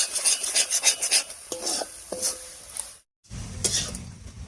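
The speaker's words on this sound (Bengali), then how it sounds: "ডিমটা দিয়ে দিয়েছি, এবার সবকিছুর সঙ্গে খুব ভালো করে মিশিয়ে নেব।" One egg is stirred into four tomatoes cooked down soft in a pan, giving close, rapid scraping and clinking strokes over a light sizzle, with a brief silent break before the stirring resumes.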